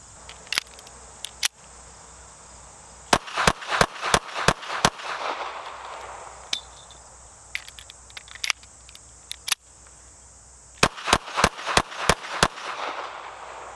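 Taurus Spectrum pistol firing Blazer rounds, sharp loud gunshots in quick clusters with pauses between strings, some shots interrupted by malfunctions, close to the listener with no talk.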